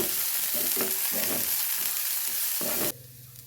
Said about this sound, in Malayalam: ഇനി നമുക്കിതൊന്ന് നന്നായി ഇങ്ങനെ വഴച്ചെടുക്കാം